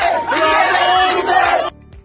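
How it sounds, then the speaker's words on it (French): A crowd in Gabon, celebrating and cheering security forces, chants loudly in unison nearby. Massed voices ring out together, then drop off abruptly near the end. "Et qui ont scandé « Libéré »."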